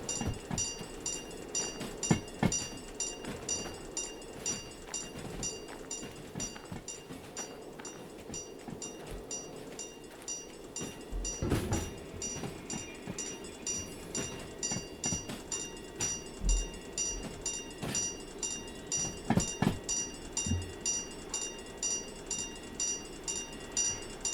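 A long train in Derail Valley rumbles along steadily with rhythmic clicking and clacking of wheels, moderately quiet and mechanical-sounding, with occasional louder knocks and a thin high whine.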